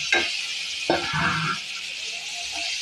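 Two tomatoes stirred into a masala frying for a bottle gourd and chana dal curry make a steady hiss with a couple of quick spoon scrapes, close and alone.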